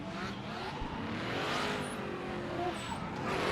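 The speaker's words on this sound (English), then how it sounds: "I just feel like Brockway's vehicle has so much wheel speed, it's not getting that forward bite" A drift car at a Formula DRIFT PRO2 event in Atlanta roars with high wheel speed. A sustained, loud engine drone mixes with tire squeal and faint high squeals at a distance.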